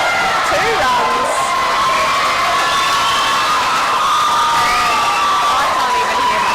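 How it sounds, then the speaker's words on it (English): A loud crowd roars and cheers at an under-23 national softball championship game, with high-pitched shouts and whoops over a constant wall of noise while a commentator's voice runs underneath. "you can hear the crowd going absolutely nuts"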